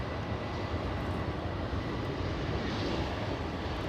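JetBlue and Aeroméxico Boeing 737 jets arriving at LAX fill the air with a close, steady engine roar, unbroken and without voices.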